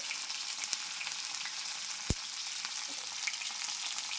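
Onions, green chillies and cauliflower fry in a little oil, giving a steady close crackling sizzle with one sharp utensil knock midway.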